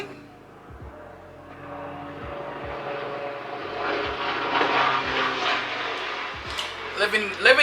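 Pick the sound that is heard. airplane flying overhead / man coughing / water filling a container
airplane flying overhead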